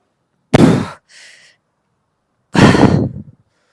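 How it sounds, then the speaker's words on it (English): Two loud, heavy breaths during a high step-up exercise, each a sharp exhale about two seconds apart, with a faint softer breath between them, close to the microphone. "Don't know why I'm breathing into this so much."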